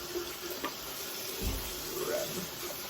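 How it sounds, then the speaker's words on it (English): Water runs from a tap at a sink during handwashing, a steady soft hiss throughout with a faint low thump midway. "Let's go wash our hands."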